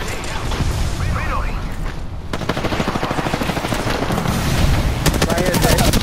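Rapid automatic gunfire from a shooter video game breaks out about two seconds in and keeps up in dense, close bursts, with voices talking over the shooting.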